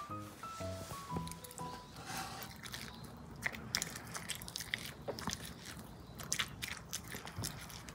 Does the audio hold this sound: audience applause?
no